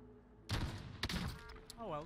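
Kraber sniper rifle in Call of Duty Warzone fires with a sharp, heavy boom followed by a second crack about half a second later, each trailing off, with a brief voice near the end.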